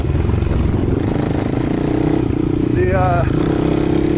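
A Suzuki LT-R450 quad racer engine running in second gear just above idle on a mountain bike trail, a loud steady low rumble close to the rider, with someone talking over it.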